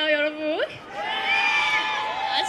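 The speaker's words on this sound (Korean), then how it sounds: "진짜 이 마이크 안으로 여러분들의 함성이 들어오는 게 아시나요" Concert crowd at an outdoor K-pop stage show cheering and shouting, a loud sustained roar of voices with high whoops rising over it, while a performer's voice speaks close to the mic on top.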